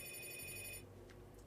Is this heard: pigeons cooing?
no